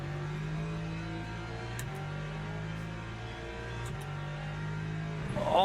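Hypercar engines rev hard in the Le Mans Ultimate racing sim, a steady high-pitched drone climbing and dropping through gear shifts, loud and continuous with a sharper surge at the end.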